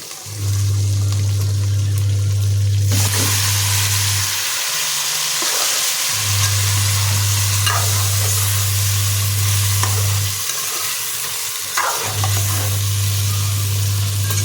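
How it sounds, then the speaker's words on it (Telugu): Fish frying in oil with turmeric for a fish curry gives a steady, loud sizzle that carries on throughout, with a low hum switching on and off underneath and no talking. "ఇప్పుడు నూనెలో మంచిగా కొద్దిసేపు నూనెలో కాలాలి"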